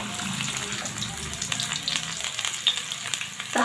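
Caraway cumin, three cloves, two cardamom pods, onion and green chillies frying in a pan, a soft continuous sizzle with light stirring clicks near the end.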